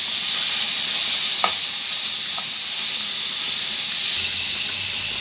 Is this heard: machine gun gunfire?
no